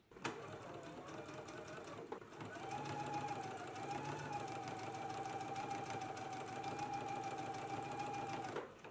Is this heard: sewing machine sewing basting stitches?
yes